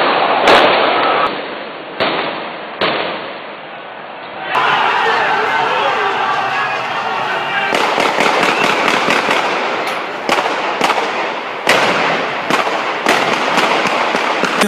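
Sharp gunshots from lethal weapons crack out one after another over a murmuring crowd at a street protest, ending in rapid bursts of several shots.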